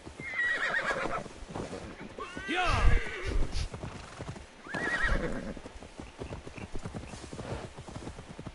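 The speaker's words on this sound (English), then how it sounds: "Now to deliver Magni his horse." In Assassin's Creed Valhalla, horse hooves clop rhythmically over ground while a horse whinnies loudly twice, with a faint voice in the background.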